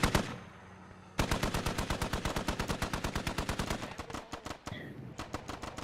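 Rapid automatic gunfire from the military shooter Squad, a long sustained burst of sharp repeated shots after a brief pause, loud and close with a slightly uneven rhythm toward the end.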